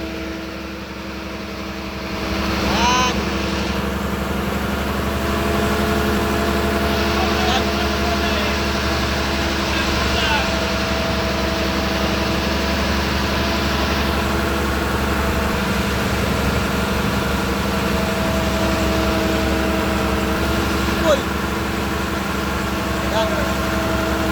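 A large truck engine idles with a steady low drone and even harmonic hum. It carries on throughout, a brief clatter near the start and a few faint background sounds above it.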